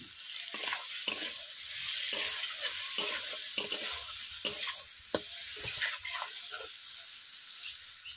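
Potatoes and drumsticks sautéed in a pan, a bright continuous sizzle broken by frequent scraping and tossing strokes of a spatula, close and fairly loud.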